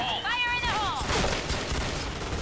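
Bursts of SC-2010 silenced rifle fire in a battle video game, a rough, noisy crackle running steadily through the second half after a brief tonal in-game sound at the start.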